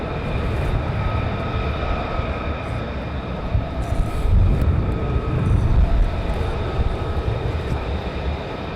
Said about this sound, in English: So another 2 F35s taxiing down at the moment.